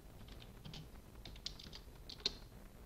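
Someone types commands at a computer keyboard with soft, quick key clicks in an uneven rhythm and a couple of sharper taps, close and quiet.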